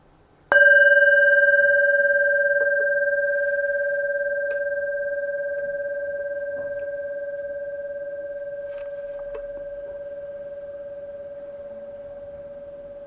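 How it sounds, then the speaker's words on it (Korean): A meditation bell at an evening Buddhist service strikes once and rings alone with a pure sustained tone, fading slowly over about twelve seconds in a quiet room. "종소리가 끝날 때까지 쭉 따라가십시오"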